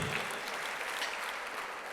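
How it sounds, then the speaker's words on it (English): An audience at a chapter business event claps steadily for a new real estate title sponsor, a brief, even patter of many hands at moderate volume with no talking over it. "A round of applause for the new title sponsor for our chapter"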